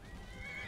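A horse neighs in the video game Skyrim, a short, faint whinny rising over a low rumbling game background.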